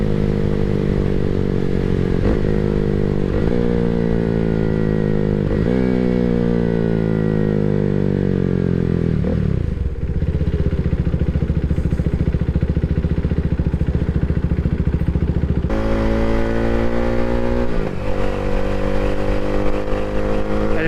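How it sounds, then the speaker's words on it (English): A motorcycle fitted with a Leo Vince exhaust accelerates through several gears, each rising engine sweep broken by a brief dip at the shift, loud and close, ending in steady cruising before one more pull. "when I'm shifting, there's little pops, but they're much quieter than they were with that stock exhaust with the side muffler removed."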